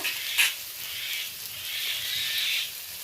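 Onions frying in a pan for a mushroom and prawn dish, giving a steady, fairly quiet hiss and sizzle with a brief stir or scrape near the start.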